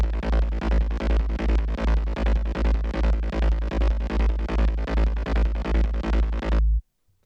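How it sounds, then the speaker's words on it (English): Hard techno synth bass line built in Thump One and Vital, a loud driving pulse of evenly spaced heavy low notes with bright buzzing upper layers, playing alone for about seven seconds before cutting off. "Next we have a bass line that sounds like this."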